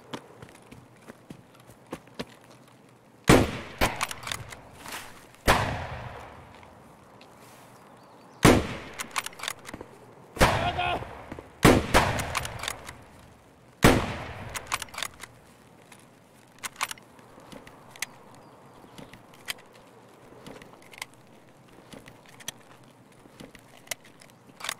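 Gunfire in Escape From Tarkov (version 12.6): several sharp, loud shots in separate bursts, some as quick doubles, spread across the stretch with softer footstep-like clatter and quiet gaps between them.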